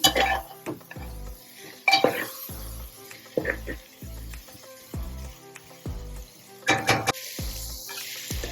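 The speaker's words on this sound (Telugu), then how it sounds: "ఒక 2 minutes అలా ఫ్రై అయితే చాలు" Vegetables frying in a pan for a homemade vegetarian biryani, with a soft background sizzle broken by a steady run of hollow knocks and scrapes as a spoon stirs against the pan.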